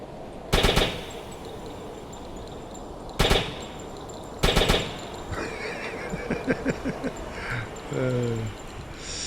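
Bursts of deck-gun fire aboard a submarine in the game UBOAT, three loud separated shots followed by a quicker string of fainter rapid reports, with a voice speaking around them.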